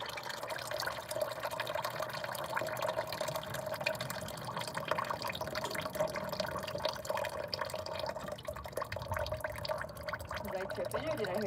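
Water runs and trickles steadily out of the oil drain of a car engine with a busted head gasket, a close liquid pour with dripping, while a person talks over it.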